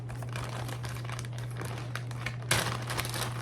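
A regular plastic bag holding a WOLFPak backpack is crinkled and pulled open close by, with steady rustling and a louder crackle near the end over a low hum.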